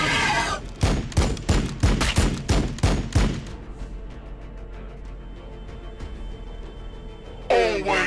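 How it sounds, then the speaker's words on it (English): Rapid bursts of gunfire from the strategy game Warhammer 40K Battlesector, about a dozen sharp loud shots in quick rhythm over three seconds, then a low rumbling lull before another burst begins. "Firing on the enemy."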